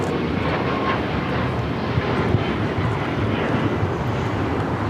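A United Airlines Boeing 737 MAX 9 takes off from LAX bound for Washington Dulles, a loud broadband jet engine roar that holds steady throughout, with wind noise on the microphone.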